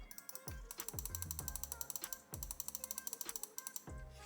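The Mouse 4 and Mouse 5 side buttons on a Razer Viper 8KHz gaming mouse click in a rapid, evenly spaced run of crisp, close ticks, with a few heavier knocks early on.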